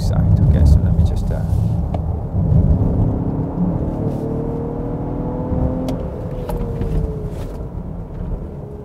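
A Lincoln Aviator luxury SUV engine in excite sport mode hums and rumbles steadily, with a rising whir as it accelerates on the road, heard from inside the cabin under someone talking.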